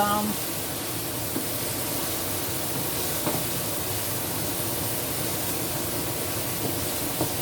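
A kitchen exhaust fan over a stovetop where onions and garlic saute for marinara sauce gives a steady, broad airy whoosh that holds constant throughout, with faint sizzle and a few small clatters underneath, and a voice talking over it.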